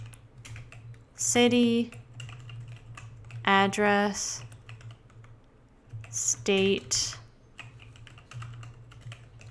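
Computer keyboard typing of an SQL insert query sounds as a steady patter of light key clicks beneath someone talking, with a low constant hum in the background.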